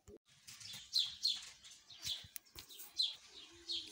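Pigeons returning to a loft flap their wings in several quick close bursts, with short chirping calls mixed in and a sharp click near the middle.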